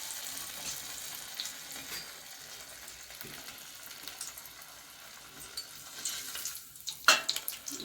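A test piece of chana dal vada batter fries in hot oil, giving a soft continuous bubbling sizzle with occasional clinks and a louder scrape near the end.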